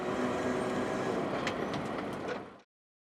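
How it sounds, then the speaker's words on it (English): Canadian Pacific freight train hauled by two GE locomotives on the former D&H mainline in upstate New York, a loud steady rumble of rolling cars and engines that cuts off abruptly near the end. "is blasting north, headed back to its home terminal of Saratoga behind two of Canadian Pacific's finest GE locomotives"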